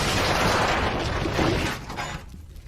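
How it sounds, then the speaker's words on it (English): A fireball explosion bursting in dirt: a loud, dense broadband roar that holds for nearly two seconds, then crumbles away into fainter debris and rumble. "A luminescent fireball explodes in the dirt."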